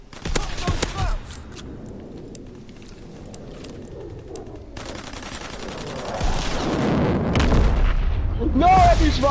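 Explosions from V2 rockets in a World War II video game, sharp booming blasts early on and a heavier rumbling roar building toward the end, mixed with other game noise and brief speech.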